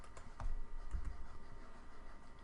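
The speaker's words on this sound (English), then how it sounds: "hit T on the keyboard" A few soft, quick clicks from a computer keyboard as a key is pressed while working in Cinema 4D software, close and fairly quiet over a faint steady background hum, with no voices.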